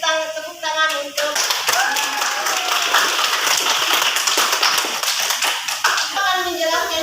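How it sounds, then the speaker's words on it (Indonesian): Classroom applause for a student during an Indonesian language lesson: children clap in a lively, uneven burst, with a few near sharp claps and a teacher's voice before and after the clapping. "Oke, beri tepuk tangan untuk"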